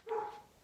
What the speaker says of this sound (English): My dogs are playing in the other room, so I apologize if you hear them barking.